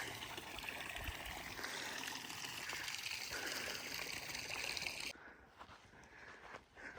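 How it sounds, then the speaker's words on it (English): Mountain water spilling from an overfilling well, a steady broadband rush of trickling and gushing flow that stays loud and close, then drops off abruptly and continues quieter and patchier toward the end. "That well is just overfilling."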